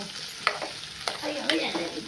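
Urad dal, mustard seeds, green chilli, coconut and curry leaves fry in a hot tempering for a festive Havyaka meal, with a steady sizzle punctuated by a few sharp pops and stirring scrapes.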